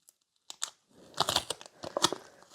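Scissors snipping a flexible sculpting nail form for stiletto gel nails, a short run of close crinkly cuts and rustles, faint at first and then denser, with no voice.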